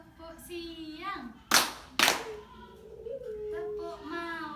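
Children in a classroom icebreaker clapping game give two sharp, loud claps in quick succession, while young voices chant around them.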